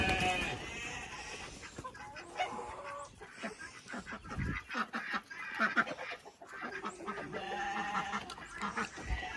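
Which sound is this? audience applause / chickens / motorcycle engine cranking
chickens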